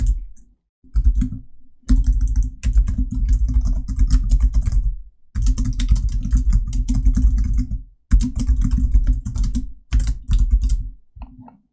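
Rapid bursts of keyboard typing, close and clear, coming in several runs separated by short pauses.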